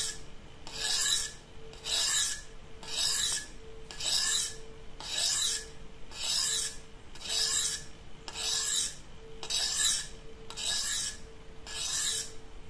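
A knife blade is drawn across a red DMT diamond sharpening stone in one-way strokes, giving about eleven evenly spaced, close, gritty rasps, each lasting roughly half a second, with no talk over them.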